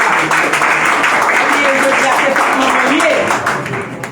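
A crowd applauds at a Mother's Day celebration, with steady dense clapping throughout and voices talking and calling out over it, the clapping tapering off near the end.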